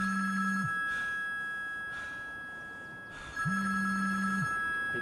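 A phone rings in a mobile video game, two electronic trilled rings separated by a pause, over a steady synthetic hum, no talking.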